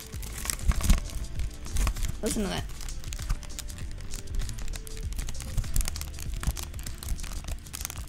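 A Jelly Comb keyboard being twisted by hand gives off brief crinkly creaks and clicks, close and fairly quiet, scattered between a person speaking.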